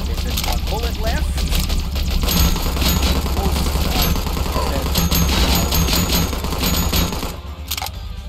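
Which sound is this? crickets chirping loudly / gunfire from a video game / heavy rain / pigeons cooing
gunfire from a video game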